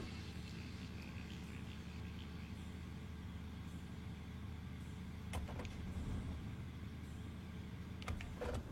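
A car engine in a PS1-era video game, a steady low droning hum running throughout, with a couple of brief sharp clicks near the end.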